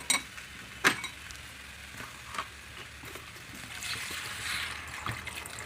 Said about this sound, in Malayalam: ഇനി നമുക്കിതിന് ആവശ്യത്തിന് സുർക്ക ഒഴിക്കാം.